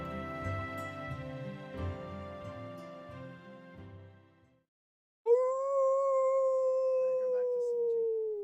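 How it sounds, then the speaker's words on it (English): A white dog in the video game Fate/Grand Order lets out a single long, clear howl that rises and slowly falls after the musical score fades to silence. "It tipped back its head and howled once more."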